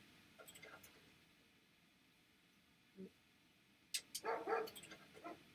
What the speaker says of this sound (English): I do apologize for the puppies barking